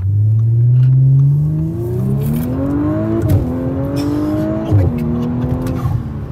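Loud, close acceleration from a tuned Audi S5 B9 with a Stage 2 tune, the engine note rising steadily with abrupt pitch drops at gear changes and a rough, raspy edge throughout.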